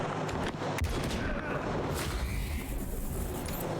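Gunfire in the post-apocalyptic combat game Wasteland 3, a dense run of sharp shots and booming bursts packed together over a busy battle mix, with voices talking over it.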